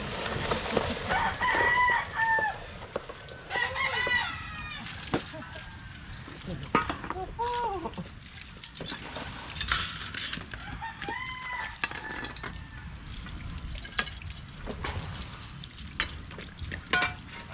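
Several roosters crow repeatedly, some near and some farther off, their calls overlapping amid clucking, clattering and occasional voices.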